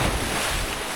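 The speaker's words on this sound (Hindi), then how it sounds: "बहाव जो है नदी का बहुत तेज़ है, आपको पानी की आवाज़ आ रही होगी" A fast-flowing mountain river rushes steadily and loudly, with a dense roaring wash and some wind buffeting the microphone.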